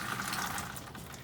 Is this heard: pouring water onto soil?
yes